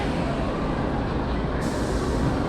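A roller coaster train rolling into the station at Parc Asterix, heard as a loud steady rumble of wheels on track with broadband mechanical noise throughout.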